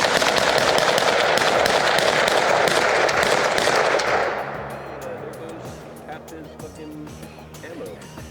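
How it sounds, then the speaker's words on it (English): Rapid, dense gunfire from a Springfield Armory Echelon pistol pours out loudly for about four seconds at a shooting range, then drops away to quieter scattered shots and ambient noise, with voices present. "Shot like half his ammo."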